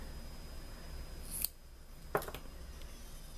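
Small scissors snipping wick material during a Kanger T2 e-cigarette coil rebuild, two quiet close cuts about a second apart in a hushed room.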